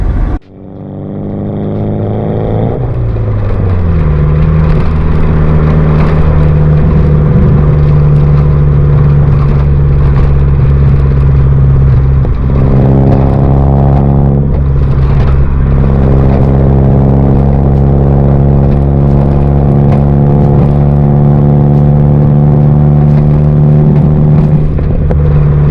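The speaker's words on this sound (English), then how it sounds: "I'm gonna focus back on getting this car warmed up." An SR20DET engine in a Datsun mini truck catches and settles into a loud, steady warm-up idle, with a few rises in revs partway through, close and alone.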